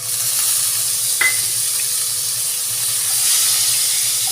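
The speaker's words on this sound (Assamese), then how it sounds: "আৰু এয়া মই পিঁয়াজো দি দিছোঁ।" Onions frying in refined oil with cumin and ginger in a kadhai over a low flame make an even, close hiss and sizzle, with a single stirring clink and no talking.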